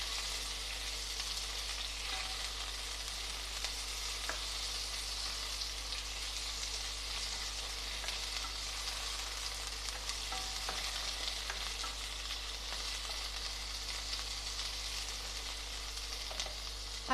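Chicken pieces and bones frying in hot oil for a chicken soup, with steady broadband sizzling throughout and occasional light stirring scrapes, no talk.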